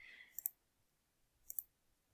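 A computer mouse clicks while selecting a folder: two crisp, quiet clicks about a second apart, each with a tiny double snap, against near silence.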